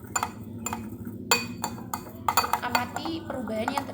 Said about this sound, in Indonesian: kemudian aduk hingga rata